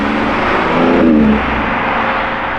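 A V12 engine revs loudly and close by with a steady, droning roar that swells briefly in the middle and then settles back, with no talking over it.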